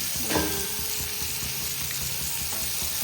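Steady, close sizzling of prawns frying in hot oil, a continuous crackling hiss with a few louder pops near the start.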